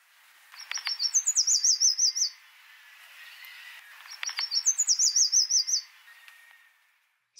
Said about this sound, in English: This yellow warbler sure has a lot to say.